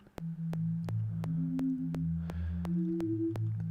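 Plucky synth sine-wave notes with a touch of FM play a melodic line of short sustained tones, each struck with a click, steady and clear with no voices.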